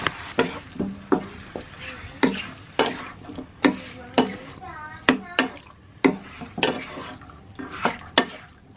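Chicken mixed with turmeric and pepper powder in a pan for a chicken curry: a spoon scrapes and clacks against the pan in steady, loud strokes about every half second, over a soft sizzle.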